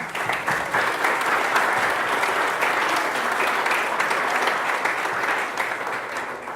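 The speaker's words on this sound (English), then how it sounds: "give the sanitary district a round of applause" Audience at a lake association annual meeting applauding the sanitary district, a steady, loud wash of many hands clapping continuously throughout.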